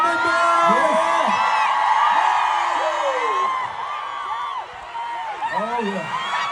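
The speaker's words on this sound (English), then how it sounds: "Round of applause to our band members!" A large open-air concert crowd at a show in Hyde Park cheers, whoops and screams continuously, dense and loud at first and easing slightly toward the end.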